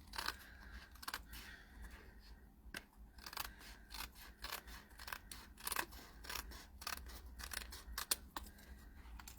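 Scissors snipping through paper in a run of sharp, quick cuts, close and fairly quiet, irregular clusters of crisp snips with short pauses between them and no voices.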